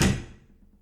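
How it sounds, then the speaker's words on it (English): A bathroom door swings shut with one soft, muffled thud close by. The thud fades quickly into quiet, with no voices. "She then slipped into the bathroom, closing the door."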